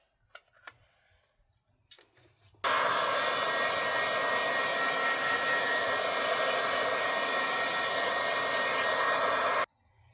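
After a few light handling taps, a heat tool switches on with a loud, steady blowing roar while drying shimmery craft spray ink on paper, runs for about seven seconds, then cuts off abruptly.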